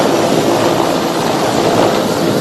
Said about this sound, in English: Currently fast trooping from the Mi-17 helicopter of the Ghana Air Force are members of the assault team